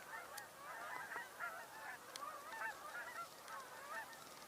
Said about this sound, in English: We're hearing Canada geese, of course.